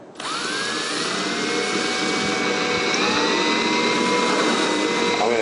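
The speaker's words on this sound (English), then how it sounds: "we're going to go ahead and drill this out" A power drill boring a pilot hole and drilling out the center of an STK 5500B part, a loud steady whine with a pitch that slowly shifts and sweeps throughout, close and continuous with no talking.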